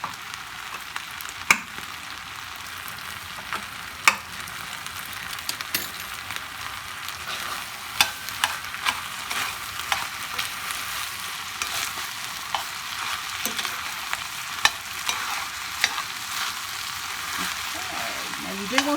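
Stroganoff sizzles steadily in a hot pan while a utensil scrapes and stirs through it, soft crackling throughout with occasional clicks of the spoon against the pan.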